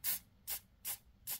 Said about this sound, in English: I'm just going to start with a light spray from a distance with the hairspray